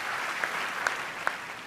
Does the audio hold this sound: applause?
yes